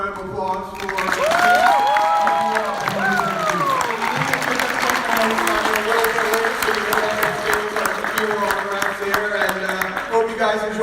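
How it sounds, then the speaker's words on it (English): Audience applause fills a convention panel hall at Awesome Con 2019, a dense, sustained crowd clapping with cheers and whoops mixed in, loud throughout with voices rising above it. "one more round of applause for"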